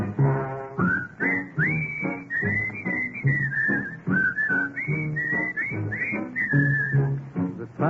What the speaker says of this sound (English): Bob sent me a record that he made with the Sportsman Quartet